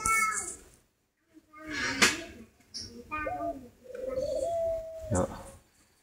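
A female spotted dove brooding on her nest in a small cage gives soft, low cooing calls, intermittent and fairly close, mixed with other faint bird and animal sounds and a person talking nearby.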